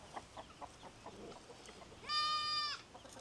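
A single goat on a farm gives one clear, fairly close bleat, standing alone after quiet background sounds.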